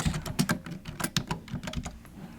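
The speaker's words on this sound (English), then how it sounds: "We will type in rect light" Rapid keystrokes clatter on a computer keyboard in a quick, uneven run, close and clear with no voices.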